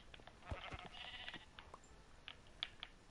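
Sheep in the video game Minecraft bleat a few times over a faint noisy background, with light tapping like keyboard keys.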